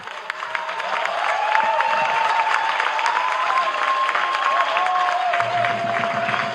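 Sustained applause from a crowd at a government budget presentation in Ekiti State, Nigeria, a dense steady wash of clapping lasting throughout, with a faint voice and tonal sound running underneath.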